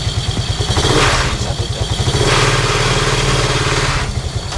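A three-wheeled cargo motorcycle used by a mung bean porridge vendor runs loud and close, its engine chugging steadily with rapid, even pulses and occasional brief throttle swells.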